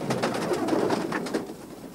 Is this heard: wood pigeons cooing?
yes